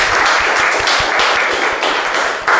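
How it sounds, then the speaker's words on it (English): A meeting audience gives a round of applause: dense, loud, close clapping from a group in a room, without talk. "Please give him a round of applause."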